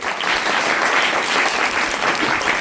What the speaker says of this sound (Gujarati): એટલે મુન્નાભાઈ ઉદ્યોગપતિને આપણે તાળીના ગળગડાટથી વધાવશું.